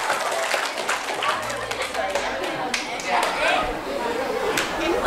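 Schoolchildren clap their hands together at a Maulid event in an Islamic school, sharp quick claps close by mixed with chatter and talk.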